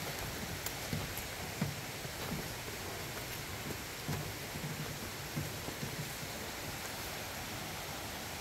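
Steady rain falls on a mountain path near an old bark-roofed house, a dense even hiss with scattered soft patters and no clear thunder, no voices.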